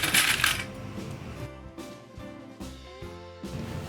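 Small metal sewing clips clicking onto fabric and a bag zipper, a quick clattery burst at first followed by several light, close clicks and taps spaced out over a few seconds.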